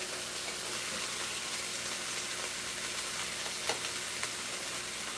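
Turkey bacon sizzles steadily in a pan on a stovetop, a dense, continuous crackle at moderate level with a few sharper pops, and no talking over it.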